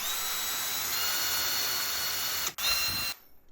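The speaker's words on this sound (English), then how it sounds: "I've chucked a metal brush into the drill, starting with this really bad screw." A steady high whirring drill fitted with a metal wire brush cleans a badly dirty screw with a gritty scratching texture, brief catch near the end before it cuts off abruptly.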